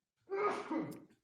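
A single short sneeze, a quick burst of breath with a voiced catch, fairly close and alone, with no talk during it.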